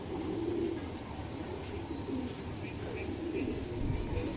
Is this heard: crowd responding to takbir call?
no